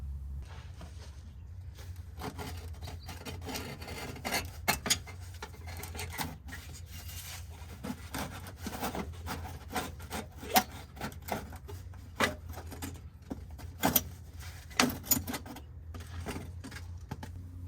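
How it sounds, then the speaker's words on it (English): A heater channel tube being worked free on a VW Bug, a long stretch of rubbing, scraping and irregular clicks and knocks of metal and hose, close and moderately quiet, with no talking. "So let's get this heater channel tube out of the way."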